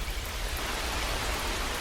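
Heavy rain pours steadily over the Amazon rainforest, a dense, continuous hiss of drops that fills the space with no pauses and no voices.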